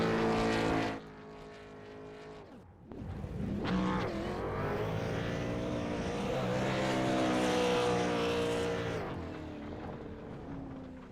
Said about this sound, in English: You hear the revs there from driver 54.